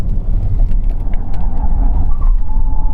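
A Lotus Eletre R electric SUV accelerates hard out of a bend, heard from inside the cabin as a steady, loud low rumble of road and tyre noise, with a faint electric whine rising beneath it.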